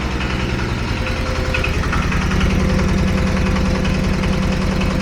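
A diesel walk-behind tractor engine drives a 220V generator, a loud, steady close-up rumble with a rapid knocking pulse that holds constant throughout, with no voices.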